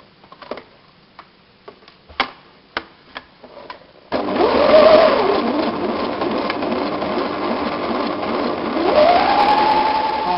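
A sewing machine stitching the lining seam of a tote bag: a few sharp clicks and taps first, then a continuous whirring run of the machine for the remaining six seconds, close and fairly loud.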